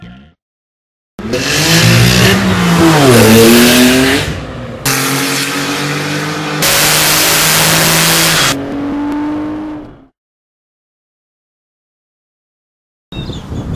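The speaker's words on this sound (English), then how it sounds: "Today we're here with two of Vivid Racing's bad boy Porsche 996 twin turbos." Two Vivid Racing Porsche 996 twin turbo cars rev and accelerate hard in a drag race, their loud close engines rising through the gears, with a brief gap and a final burst of engine noise.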